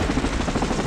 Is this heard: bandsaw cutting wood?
no